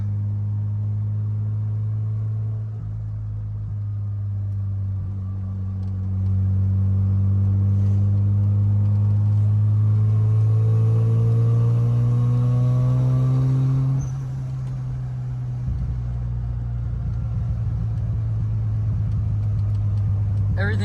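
Mazda FC RX-7 turbo rotary with a catless 3-inch downpipe idles with a deep, steady rumble, then climbs through a long rising rev before dropping back to idle, close and loud throughout.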